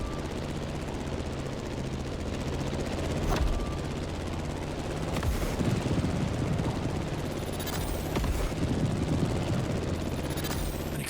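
A plane engine in The Crew Motorfest video game drones as a steady, dense whine, with scattered sharp game effects over it and no talk.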